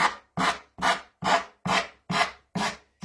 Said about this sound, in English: I'm going to sand this right off